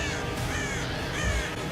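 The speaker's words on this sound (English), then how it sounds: "Why are you full of crows?" Several crows caw in a loose, overlapping chorus, the harsh calls rising and falling over steady background noise, fairly close and continuous throughout.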